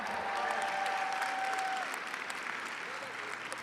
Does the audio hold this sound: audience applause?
yes